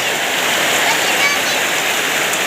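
Heavy rain falls steadily in a dense, even hiss that stays constant and fairly loud throughout, with no voices over it.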